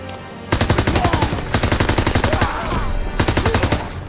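Rapid machine-gun bursts in a Call of Duty WWII battle, several long, loud volleys of fast, even shots separated by short pauses, with shouted voices faintly underneath.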